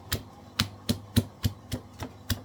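Ginger and garlic pounded in a mortar with a pestle for a slimming recipe, eight sharp, evenly spaced thuds at a steady rhythm, close and fairly loud with no talk.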